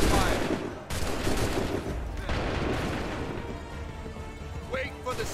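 A volley of musket gunfire in the Assassin's Creed 3 video game crackles as dense, loud shots over several seconds, followed by rumbling, with voices heard in the mix.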